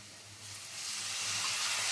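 Flour, onion and garlic frying in a pan sizzle steadily as a little water is added, the hiss swelling louder and brighter over two seconds with no voices.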